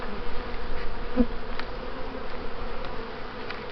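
Honeybees swarming over an opened hive with frames of new foundation and drone comb, a continuous close, dense buzzing drone that holds steady throughout.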